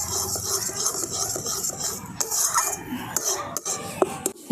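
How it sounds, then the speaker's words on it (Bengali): Pea paste being stirred into fried gram flour in a pan, with repeated scraping and rubbing strokes of a spoon against the metal and soft clinks, close and steady with no talk. "এই মটরশুঁটির পেস্টটা দিয়ে আমি সমস্ত কিছুর সঙ্গে একসঙ্গে খুব ভালো করে মিশিয়ে নিচ্ছি।"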